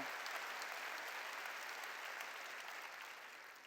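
A church congregation at a New Year blessing revival service claps in a sustained burst that sounds fairly distant and slowly fades toward the end.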